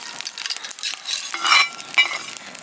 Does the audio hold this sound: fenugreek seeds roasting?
yes